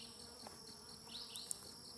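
Bees at a backyard beehive during an inspection, a faint high insect buzz over quiet background with a brief louder buzz passing near.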